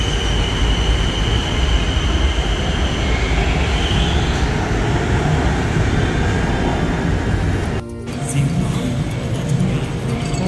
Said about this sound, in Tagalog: Ito yung train, the famous BTS.